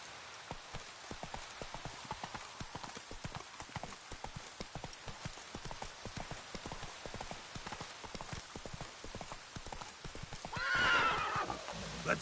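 A horse gallops in The Witcher 3 video game: steady rapid hoofbeats under a constant wash of rain, ending with a loud neigh.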